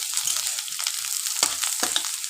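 Rice is stirred in a frying pan for a South Indian style dish, with a bright, steady frying hiss broken by repeated short scrapes and taps of the spatula.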